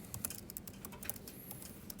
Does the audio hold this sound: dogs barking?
no